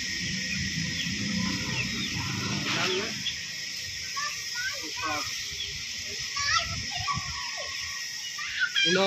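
Turkeys gobble in bursts among other farmyard fowl, including Chinese chickens and ducks, with a voice and nearby chatter mixed in throughout.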